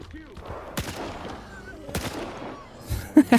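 Double-barrel shotgun blasts in STALKER 2, two sharp booming shots about a second apart, followed by quieter clatter and a few small impacts near the end.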